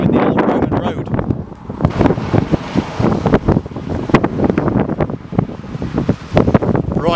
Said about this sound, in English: very blustery indeed